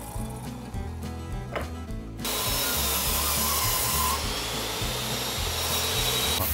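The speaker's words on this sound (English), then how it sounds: "I only have this huge tenon machine, so I'm using it." A large tenon machine cuts a tenon into wood for a bench, its steady loud motor hum joined after about two seconds by a broad, continuous cutting roar that holds to the end.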